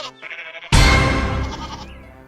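A goat in an animated Hindi folk tale gives a loud, close bleat that starts abruptly and trails off over about a second. A shorter, fainter animal call comes just before it.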